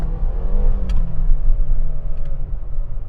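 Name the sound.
Mercedes-Benz GLB 250 compact SUV accelerating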